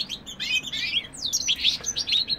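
Goldfinches kept as cage birds chirp and twitter in quick bright bursts, a near, lively run of thin whistled notes with sliding trills over a soft background hum.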